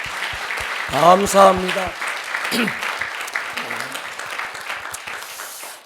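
Church congregation applauding during a Christmas worship service: a soft, steady patter of clapping under a voice, with distinct hand claps near the start and the crowd's clapping continuing in the background.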